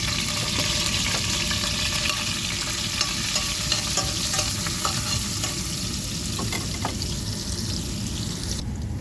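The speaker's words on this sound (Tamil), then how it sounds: "பூண்டு வதக்கிட்டு" Garlic and green chillies sauté in hot oil in a pan with fennel seeds and curry leaves for a chicken liver chukka, giving a steady, close, loud sizzle throughout with occasional clicks and scrapes of stirring, and no voices.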